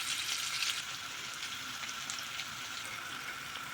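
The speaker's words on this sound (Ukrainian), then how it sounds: "хай наша цибулька смажиться" Onions fry in hot oil with butter added, a steady, crackling sizzle, continuous and even throughout.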